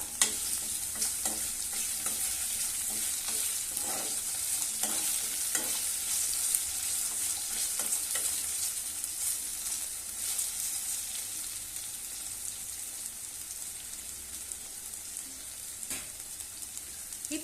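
Salted potatoes for a spicy Tamil-style potato stir-fry crackle in a pan with an even, bright sizzle, broken by repeated stirring scrapes of a utensil, close up, with no talking throughout.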